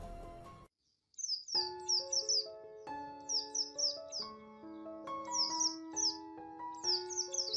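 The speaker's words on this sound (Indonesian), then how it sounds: "Terdengar suara burung-burung yang bersaut-sautan dari luar jendela." Small birds chirp in quick repeated bursts, fairly soft, over a gentle melodic music background with sustained notes.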